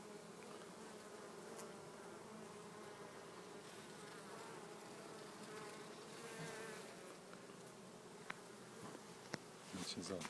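Honey bees hover around flowers gathering pollen. Their buzzing drones steadily and faintly for the whole stretch, joined by a few small clicks near the end, with no talking.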